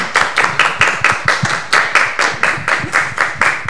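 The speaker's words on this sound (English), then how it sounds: "Can we have a round of applause for Karim?" A small audience claps for a guest speaker at a talk on human rights in Egypt around COP27, a close, fairly sparse patter of individual hand claps in a steady rhythm.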